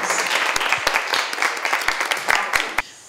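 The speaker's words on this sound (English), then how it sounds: "That really deserves a round of" Lively audience applause with distinct sharp claps popping out of a continuous clapping wash, close and fairly loud, tapering off toward the end.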